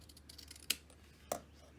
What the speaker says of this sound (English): and I'm going to cut that